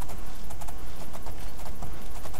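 A horse gallops in the video game Oblivion, its hooves beating out a steady, rapid clip-clop rhythm that stays loud and continuous throughout.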